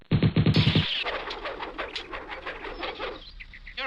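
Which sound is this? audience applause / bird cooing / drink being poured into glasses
bird cooing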